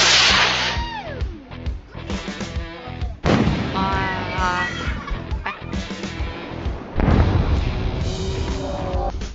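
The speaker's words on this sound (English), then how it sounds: "fireworks are struck by lightning" Fireworks struck by lightning burst in a rapid string of sharp cracks and booms, with whistling and crackling trails between loud, irregular explosions.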